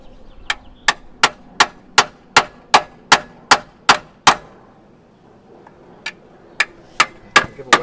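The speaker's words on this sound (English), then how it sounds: "Give a whack on the end of that bolt." A hammer strikes the end of a bolt during transmission removal on a Silversides bus, ringing out as a dozen loud, evenly spaced metallic blows, then a pause and another run of five hits.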